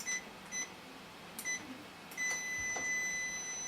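Short electronic beeps from a Turbo Lock keypad door lock sound a few times, then a longer steady tone, faint against a quiet room with light clicks.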